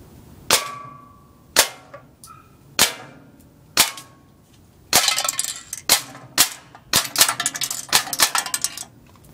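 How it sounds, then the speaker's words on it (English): Shots from a CO2 gas blowback M9 airsoft pistol hitting a soda can at about 20 to 25 feet. Several spaced single sharp cracks, then a fast burst of rapid full-auto snaps with metallic pings, loud and close. "I will be shooting the can at probably 20 to 25 feet."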